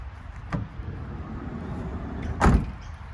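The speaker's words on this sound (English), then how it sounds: "we need to close the side door." A campervan's sliding side door makes a faint rolling scrape, then shuts with a firm, close thunk near the end, and nothing else is heard.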